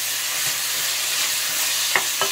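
Garlic and tofu frying in a pan, a soft steady sizzle with a few brief stirring scrapes and clicks near the end, no talking.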